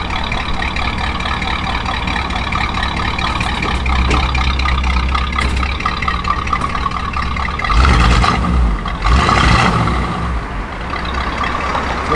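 A 1955 Chevrolet Bel Air engine runs at a steady loud idle, then revs up twice in quick succession before settling back down.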